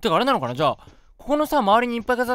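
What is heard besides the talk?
No everyday noises stand out.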